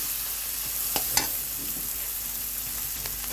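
Green chilies, garlic and onion fry together in a pan for a village-style greens dish, a steady close sizzle with a couple of sharp spatula taps and light stirring scrapes.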